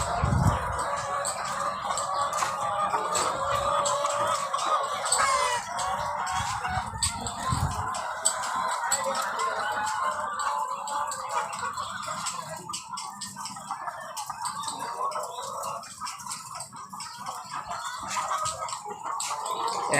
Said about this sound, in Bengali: এখানে মিনিমাম 5000 মুরগি আছে।